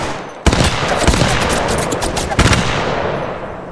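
Dense automatic gunfire bursts in an Apex Legends Mobile match, loud and close, one sustained volley followed by a second sharp burst, with in-game voice callouts mixed underneath.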